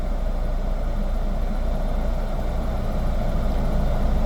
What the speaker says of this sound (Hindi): अब ये देखो साउंड सुनो इंजन का